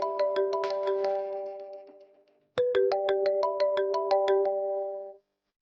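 A mobile phone ringtone plays a bright, repeating melodic tune that runs for about two seconds, stops briefly, then starts again, loud and close in a quiet room.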